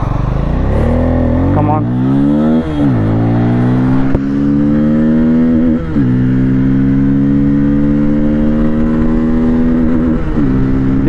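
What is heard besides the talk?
Bajaj Pulsar N250 motorcycle accelerating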